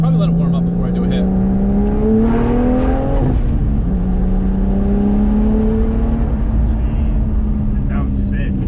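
Single-turbo BMW 335i engine running loud inside the car, its tone gliding upward under acceleration, dipping briefly, then climbing again as a steady drone; a voice speaks over it.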